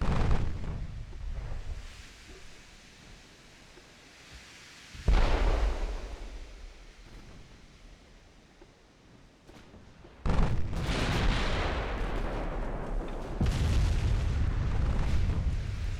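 Heavy booms from a warship's secondary guns firing at a light cruiser in Ultimate Admiral Dreadnoughts, with two loud blasts spaced apart and a rolling, rumbling roar after each.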